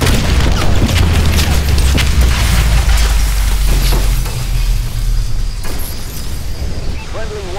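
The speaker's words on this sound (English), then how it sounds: "Friendly bombing run clearing the way." Bombing-run explosions in a Call of Duty game: heavy, sustained booming rumble with layered blasts rolling on for several seconds, loud and near, fading slightly toward the end while a voice talks over it.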